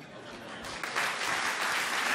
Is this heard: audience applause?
yes